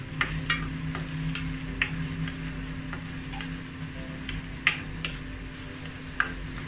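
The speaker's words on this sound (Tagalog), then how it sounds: "mix lang po natin ng konti yung garlic." Garlic frying in hot oil in a pan, a steady close sizzle with occasional sharp ticks and scrapes as it is stirred, no talking over it.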